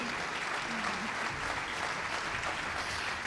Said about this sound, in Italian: Facciamo un applauso intanto